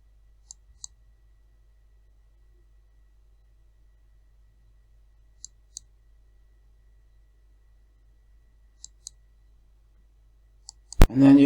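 Computer mouse clicks during WordPress setup, sparse double clicks spaced several seconds apart in near silence, followed by a sudden louder sound at the very end.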